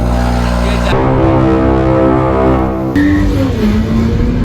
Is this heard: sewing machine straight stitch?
no